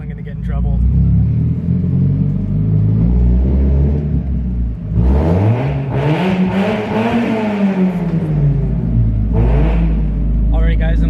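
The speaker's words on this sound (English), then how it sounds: "we're definitely gonna get to hear that exhaust" A car's loud exhaust with a gutted catalytic converter rumbles and revs close by in a parking garage, the deep roar swelling and falling in pitch as the engine is pushed, echoing in the enclosed space.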